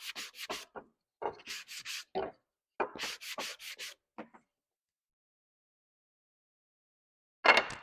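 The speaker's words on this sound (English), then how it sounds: "Do just a tad bit of sanding on it to smooth it out." Hand sanding of a wooden sign: a run of short rasping strokes in quick bursts over about four seconds, then a pause and one last firm stroke near the end, close up with no talking.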